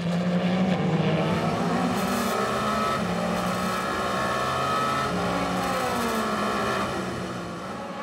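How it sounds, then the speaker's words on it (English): A 2022 Le Mans prototype race car sweeps past on track, its engine a loud, sustained roar with shifting pitch as it passes close by, then fading slightly at the end. "here comes his teammate Mike Conway to sweep around the outside"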